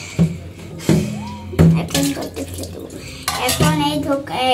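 Kashmiri paneer being rinsed in water in a kitchen, with repeated clinks and knocks of a pot or bowl, splashing and stirring close by in a few short bursts, and a voice briefly audible.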